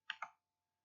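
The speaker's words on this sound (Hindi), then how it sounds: "और यहाँ पे मैं नेक्स्ट पे क्लिक करूंगा।" A computer mouse is clicked twice in quick succession, two sharp, close, quiet clicks followed by near silence.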